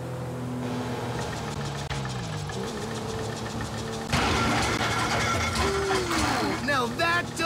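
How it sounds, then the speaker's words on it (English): A rough, knocking damaged car engine in GTA 5 idles and sputters, then revs harder with a louder, strained roar near the middle; steady mechanical rattling throughout. "Now that doesn't sound good! Damn, that's the engine, man."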